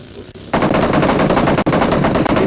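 Rapid automatic gunfire in a battle royale video game, a dense continuous burst of shots fired close and loud after a brief quieter lead-in, with one short pause midway.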